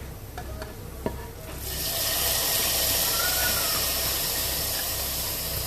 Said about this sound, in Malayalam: ഇനി നമുക്കിതിലേക്ക് അണ്ടിപ്പരിപ്പും മുന്തിരിയും തേങ്ങക്കൊത്തൊക്കെ വറുത്തിടാം നെയ്യിൽ